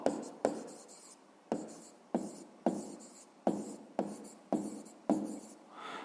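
Pen strokes on paper while writing down the answer to a sixth-grade maths exercise: about nine distinct scratchy bursts in a steady rhythm, close and clear, with no talking.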